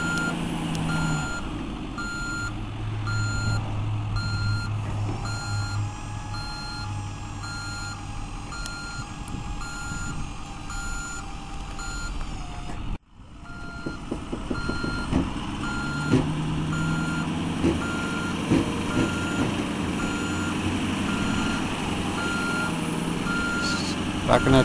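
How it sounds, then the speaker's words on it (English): A truck slowly backs a trailer beneath a storage building, its reversing alarm beeping steadily over a low idling engine, with a sudden break midway before machinery noise resumes. "Backing that trailer right underneath there."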